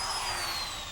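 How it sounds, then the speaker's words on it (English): A power drill bores pilot holes for lag screws while garage door tracks are mounted to the jamb: a steady, close motor whine with a slowly falling pitch that runs for a brief second, with no voices. "We pre-drill holes to accommodate the lag screws."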